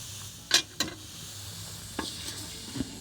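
Smashed hamburger patties cook on a griddle at Warriors' Path State Park, with a soft, steady sizzle under a few sharp scraping and tapping clicks from a spatula.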